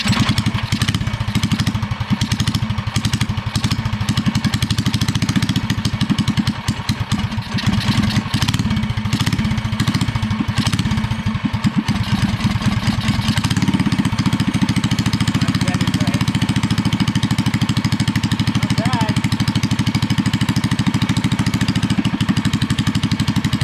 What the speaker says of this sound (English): We're gonna adjust that so that she idles.